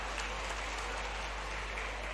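Sustained applause fills a conference hall in Amlaha as the audience welcomes another guest, many hands clapping in an even, unbroken roar at a steady moderate level.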